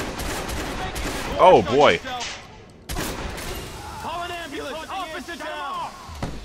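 Watch Dogs gunfire crackles in quick volleys of sharp shots, loud and close, broken by a short gap, while a voice talks through the action.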